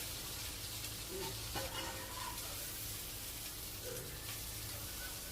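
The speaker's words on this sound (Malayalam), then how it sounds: "എണ്ണ കുറച്ച് ഒഴിക്കണുണ്ടേ" Olive oil sizzles in a pan while chilli chicken fries, a continuous soft crackling hiss heard close and steady, with occasional stirring clinks and no talking.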